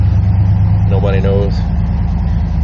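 A 1993 dually truck engine idling at about 1200 RPM, a steady loud low throbbing rumble with a faint higher whine briefly rising above it, with people talking nearby.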